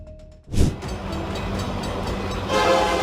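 A train roars past up close, a loud rumbling wash of wheels and rail noise that stays steady and swells again toward the end.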